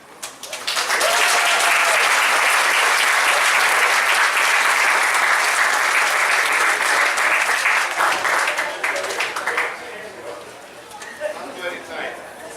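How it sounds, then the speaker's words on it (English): An audience at a governing body meeting breaks into loud, sustained applause that swells quickly and holds steady before tapering off into scattered claps and murmuring voices. "Let's give him another round of applause."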